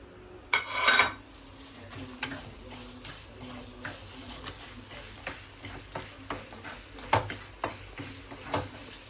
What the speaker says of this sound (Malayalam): അപ്പോൾ നമുക്ക് ഈ അണ്ടിപ്പരിപ്പ് മുന്തിരിങ്ങ ഇട്ട് കൊടുക്കണം. കാരണം അതിൽ കിടന്നിട്ട് ഇതും കൂടെ ഒന്ന് ഫ്രൈ ആയിട്ട് വരണം.